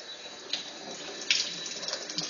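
Water gushes steadily indoors like a small household fountain, a continuous hissing spray with a few brief surges, fairly quiet and with no voices over it.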